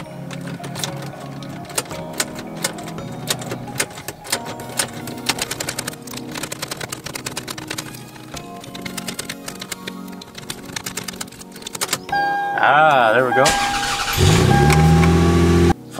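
A stock family sedan's ignition key turns; after mechanical clicking and rattling the engine cranks and turns over, then catches and idles steadily with a rising rumble; a voice speaks briefly.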